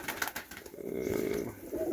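Pigeons in a dovecote in Chornobai coo softly and close by, low rolling calls over a brief rustle that sounds like wings.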